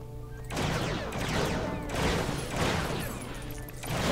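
In the LEGO Star Wars: The Skywalker Saga video game, a blaster weapon fires in repeated volleys of crackling shots, layered over game effects and background music.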